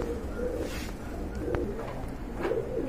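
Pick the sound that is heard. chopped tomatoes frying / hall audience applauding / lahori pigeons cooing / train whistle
lahori pigeons cooing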